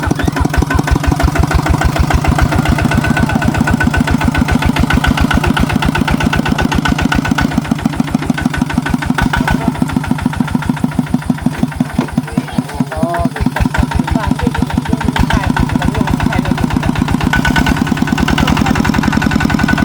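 A modified street car drives along with its engine running continuously in a steady, loud, pulsing drone up close, while voices are heard talking over it.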